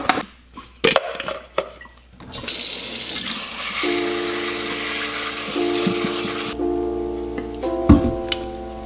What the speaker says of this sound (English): always wash your greens